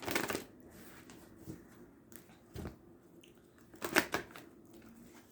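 Astrology cards being shuffled by hand in soft, brief bursts with quiet gaps between, close and faint, no talking.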